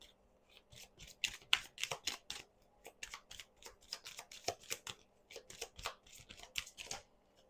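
Oracle cards being shuffled and drawn, a rapid run of crisp papery flicks and riffles repeating in close bursts, fairly quiet and near, with no talking.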